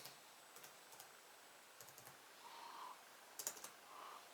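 Keys clatter on a computer keyboard as a command is typed, a quiet, sparse run of light clicks in short bursts with pauses between, close and with no speech.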